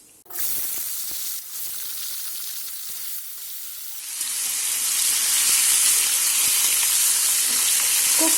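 Potatoes hitting hot mustard oil tempered with panch phoron burst into a sudden loud hiss, settling into a steady sizzle that swells brighter and more intense midway, close and continuous.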